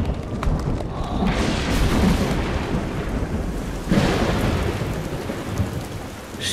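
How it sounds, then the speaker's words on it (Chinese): Steady heavy rain pours throughout while rolling thunder rumbles, with a louder crack of thunder breaking in partway, near and loud with no voices. "下雨了，你们大周就没个好天气"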